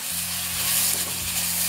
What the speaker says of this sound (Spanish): Y seguimos friendo muy lentamente también.